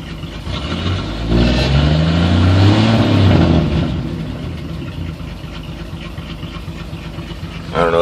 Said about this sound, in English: I don't know if you can hear the exhaust.